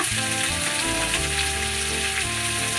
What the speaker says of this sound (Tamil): சின்ன வெங்காயம் போட்டுங்க.